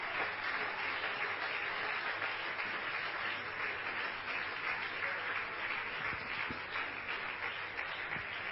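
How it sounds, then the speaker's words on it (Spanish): A church audience at an evangelical gathering gives sustained applause, an even, continuous wash of clapping throughout with no break. "Que el aplauso sea para Cristo."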